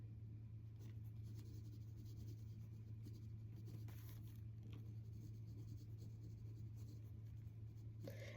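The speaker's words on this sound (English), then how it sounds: "So I'm going to write that down" Pen writing notes by hand, faint scratchy strokes in short bursts over a steady low hum, quiet and close with no talk.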